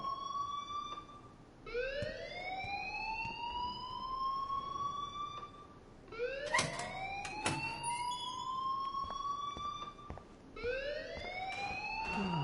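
A school fire alarm in the Life Is Strange video game blares in repeated rising electronic whoops, each sweep sliding upward and cycling roughly every four seconds, steady and loud with no talk.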